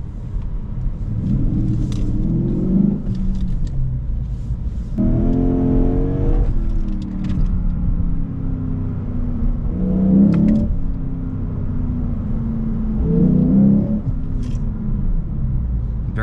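A deep V8 engine rumble, artificially piped through the speakers, fills the cabin of a 2023 Lexus IS 500 F Sport, with several rising revs and gear-shift dips, steady and fairly loud throughout.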